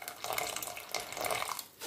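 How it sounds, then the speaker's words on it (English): A small splash of water is poured into a cooking pot of rice for peri peri rice, a soft, steady watery trickle and bubbling hiss close by, with no talk. "that's going to need just a little bit more water. So I'm just going to add in just literally a couple of tablespoons"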